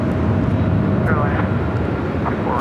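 A heavy Boeing 767 touches down at Los Angeles International Airport with a loud, continuous rumble of jet engines and roaring wind noise throughout, while a radio voice talks over it.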